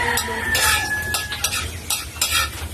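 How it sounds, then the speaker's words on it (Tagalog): Garlic sautés in a pan at close range with a bright crackling sizzle. Repeated scraping stir strokes and light utensil clinks come in a loose rhythm, with no talking. "So, gisa tayo ng bawang."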